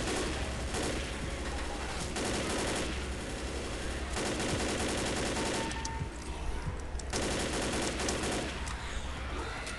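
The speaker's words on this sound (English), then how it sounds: "I have the minigun" Minigun fire from the Left 4 Dead video game, a dense, loud stream of rapid shots in long sustained bursts with brief breaks between them, and voices faintly underneath.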